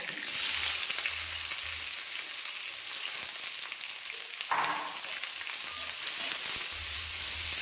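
Onion and curry leaves fry in a hot pan, a loud, steady close-up sizzle with a brief clatter midway and faint low hum underneath, no voices.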